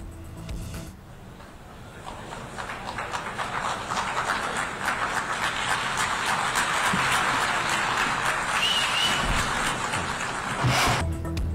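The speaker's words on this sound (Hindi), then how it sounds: "वज़ीर आज़म की आमद पर जनरल असम्बली का हॉल तालियों से गूंज उठा।" Applause swells through the UN General Assembly hall as a prime minister arrives, starting softer and building into a sustained, dense roar of clapping from many delegates before cutting off abruptly.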